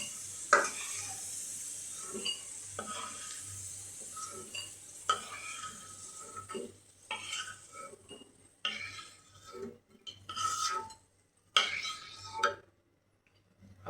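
Potatoes fry in a pan while being stirred, giving a soft steady sizzle broken by repeated scrapes and clinks of a utensil against the pan, with brief quiet pauses near the end.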